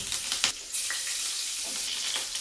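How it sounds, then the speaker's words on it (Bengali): Chopped green chillies frying in hot oil and butter with whole garam masala, a loud close crackling sizzle broken by a few quick stirring scrapes. "লঙ্কা কুচিটাকে হালকা করে একটু ভেজে নেব।"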